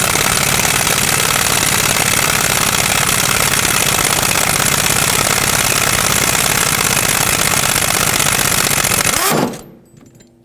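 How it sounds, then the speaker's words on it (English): An impact gun drives a puller that pulls the harmonic balancer off the crankshaft of a 1999-2003 Toyota Solara, hammering loudly and steadily for about nine seconds before stopping abruptly, close up. "it's going to pull the harmonic balancer out"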